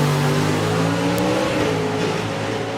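A drag racing car launches off the line at the FIA European Finals, its loud engine roaring in a steady, continuous blare before the driver lifts off early and the note eases.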